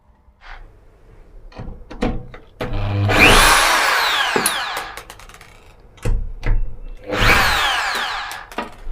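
A power drill fitted with a socket adapter spins nuts loose, giving two loud whirring bursts that rise in pitch, each lasting a couple of seconds, with clacks and handling knocks before and between them.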